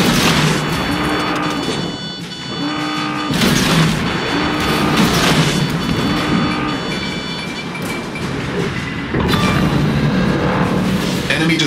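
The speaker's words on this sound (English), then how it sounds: "Enemy destroyer blown up." An enemy destroyer blows up in World of Warships, a naval battle video game, with a tier 4 Isokaze destroyer in play: heavy booming blasts and rumble under steady game audio with repeated tonal alerts.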